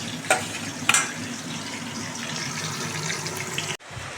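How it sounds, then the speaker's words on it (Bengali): Paneer and turmeric frying in a pan, a soft steady sizzle throughout with a couple of sharp clinks of a spoon or spatula early on, cutting off abruptly near the end, with no voices. "এখন একটু হলুদ দিয়ে দেব। এগুলো এখন ভালো করে ভেজে নেব।"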